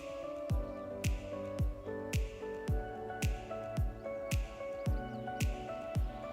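A spoon or whisk works through chocolate muffin batter with milk, making wet squishing and slapping strokes. They repeat at a steady rhythm, about two per second, close up.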